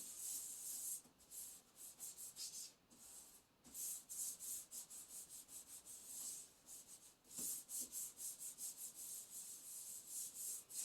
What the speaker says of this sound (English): you want to rub it all over this petition